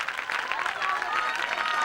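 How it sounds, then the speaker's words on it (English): Steady applause from a pageant audience at Miss Gibraltar 2008 after the seven contestants are presented, a dense continuous wash of clapping that stays loud and even throughout. "One big round of applause, please."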